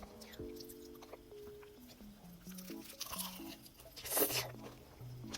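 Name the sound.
biting crunchy fried chicken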